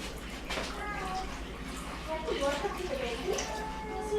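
Warm water poured into yeast for pizza dough, a steady close splashing trickle running throughout with brief faint voices over it.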